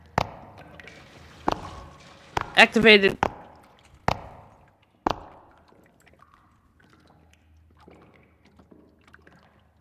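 Water splashes in the Sauna 2000 video game as a character jumps in: several sharp splash hits and a brief burst of churning water, then quieter drips, with a short voice line mixed in.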